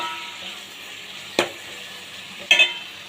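Tomatoes frying with onions in a pan for a Nellore-style fish gravy, giving a steady soft sizzle with two brief clinks or stirring knocks standing out over it.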